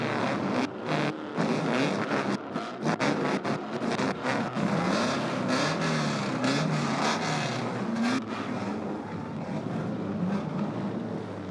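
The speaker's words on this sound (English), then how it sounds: "Drivers, start your engines!" A dense, continuous roar of multiple pure stock race car engines starting and revving together, loud and sustained with rising and falling pitch.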